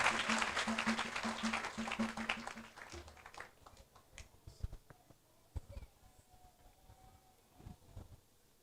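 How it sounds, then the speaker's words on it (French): A church congregation claps loudly for the first few seconds, dense and continuous, then the applause fades into scattered claps and faint room murmur. "Acclamez très fort, acclamez très fort"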